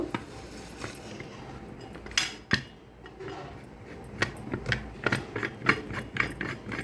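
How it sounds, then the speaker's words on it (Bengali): A metal pressure cooker lid is fitted and locked in a home kitchen. It comes as a series of sharp clicks and ratcheting clanks, some close and loud, with quieter scraping between them and no speech. "এখন এটা ঢাকনাটা লাগিয়ে দিয়ে ঢাকনাটা বন্ধ করে দিব"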